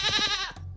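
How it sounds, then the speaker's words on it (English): A sheep's woolly bleat rings out close and clear with a wavering, vibrato-like tone, one sustained baa lasting most of a second before a short quiet gap and the start of another. "woolly sheep baaing"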